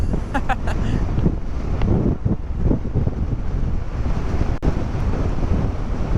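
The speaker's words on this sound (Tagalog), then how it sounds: "Tinatangay din ako ng hangin." Strong wind buffets the microphone continuously, a dense roaring rush that stays loud from start to finish, with faint voice-like traces underneath and a brief dropout near the end.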